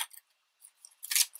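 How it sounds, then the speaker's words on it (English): Pet trimmer scissors snipping decorative edges on paper stamps, a few sharp close crisp cuts separated by short pauses, with no voices. "pet trimmer scissors to do stamp edges, and I must say they work very well"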